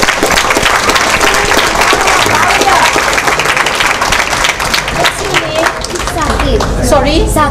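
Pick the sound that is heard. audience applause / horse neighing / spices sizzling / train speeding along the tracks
audience applause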